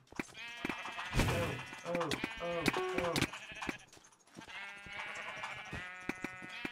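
Blocky sheep in a Minecraft arcade minigame bleat repeatedly in short wavering cries, fairly close and overlapping with lively game music and sound effects, while players talk excitedly over the top.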